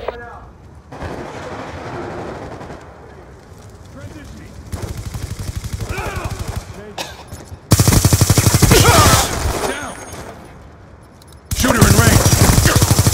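Call of Duty: Black Ops II gunfire rattles in rapid automatic bursts, growing louder and denser in the later stretches, with a player talking excitedly over the shooting.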